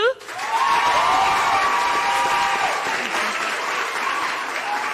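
Studio audience at a Ghanaian TV talent show applauds steadily for a full, loud stretch, dense clapping with some cheering voices blended in and a sustained tone running under it.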